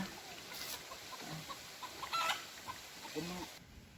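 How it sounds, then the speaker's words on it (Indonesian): A chicken clucks faintly and intermittently near a rice field, with low outdoor background noise around it. "Itu ayam"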